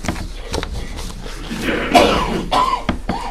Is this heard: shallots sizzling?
no